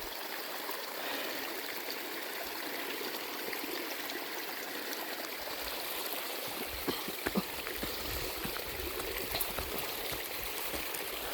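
Stream water flows on a wooded hillside property, a steady broadband rush and trickle close by that stays constant throughout, with a few faint knocks partway through and no talk.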